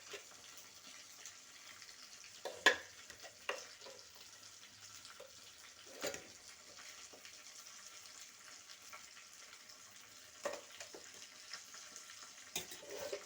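Food fries in a pan in a home kitchen with a soft, steady sizzle, broken by a few sharp utensil clinks and scrapes. No one speaks.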